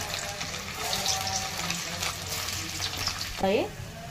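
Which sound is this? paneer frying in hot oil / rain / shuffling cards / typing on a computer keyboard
paneer frying in hot oil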